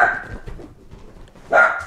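A dog barks twice, loud and close, once at the start and once near the end, with quieter rustling in between.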